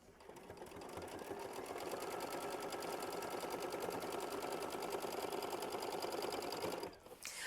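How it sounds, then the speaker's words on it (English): A sewing machine runs a steady machine stitch through quilt-block fabric, a continuous even whirring with a fine rapid needle rhythm that holds loud and close for nearly seven seconds before stopping abruptly. "we're going to hit start, and we're going to sew machine stitch step 19"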